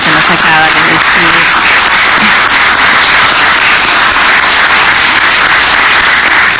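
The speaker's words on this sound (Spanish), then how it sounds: "un aplauso yo creo para lo que nos acaba de decir" Sustained applause fills a legislative Constitution Commission session room, a dense steady roar of many hands clapping from start to finish, with a voice briefly audible at the opening.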